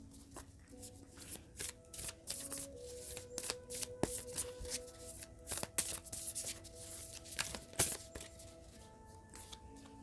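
Moonology oracle card deck shuffled by hand at close range, with a run of crisp riffles and soft card slaps, quiet and irregular throughout, with faint talk in the background.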